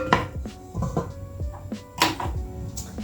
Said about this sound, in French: je vais en attendant couper mon potiron en petits morceaux